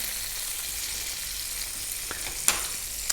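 Potatoes dropped into very hot roasting fat sizzle and spit steadily, with a loud, crackling hiss throughout and a couple of sharp pops near the end, with no talk.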